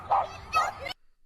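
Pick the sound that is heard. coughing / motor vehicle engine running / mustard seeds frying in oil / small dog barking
small dog barking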